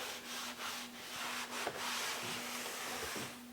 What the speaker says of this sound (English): But I'll put this on with the applicator pad like I am